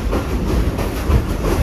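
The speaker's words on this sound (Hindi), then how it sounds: "ये बेसल शरीफ रेलवे स्टेशन है" The Kohat Express rolls into Basal Sharif railway station, a loud, close rumble of carriages with rhythmic wheel clatter on the rails.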